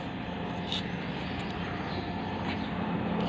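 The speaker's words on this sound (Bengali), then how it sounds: "ওই যে হেলিকপ্টার আসছে" A helicopter flies overhead, giving a steady, broad engine and rotor rumble that holds at an even level for a few seconds with no voices over it.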